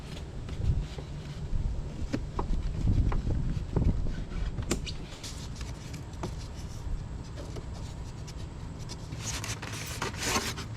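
Scissors cut through glued foam on an RV air conditioner, giving soft scraping and rustling with scattered small snips, fairly faint and close, with no talking.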